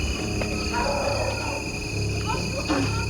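A dog barks repeatedly in the distance near a bridge, the barks faint and intermittent over a steady background hum, with a voice faintly audible at times.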